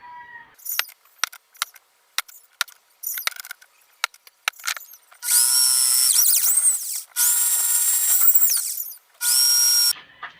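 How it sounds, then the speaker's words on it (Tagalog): Power drill boring a series of holes into a metal burner chamber, with short bursts of whirring and bit chatter at first, then three long sustained high-pitched drilling runs, close and loud. "8 piraso lang ibubutas ko dyan."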